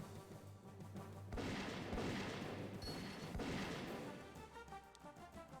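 Gunshots in the point-and-click adventure game Jack Orlando Director's Cut, a few heavy bangs and booms in a row over game music and ambience, loud and close; no talking.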